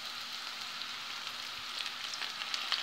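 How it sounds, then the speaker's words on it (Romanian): Canned tuna frying together with other ingredients in a pan for a tuna pasta dish, a soft continuous sizzle with scattered light crackles growing slightly busier toward the end, quiet and close, no talking. "100 de grame de ton în cutie, în conservă. Și le prăjim împreună."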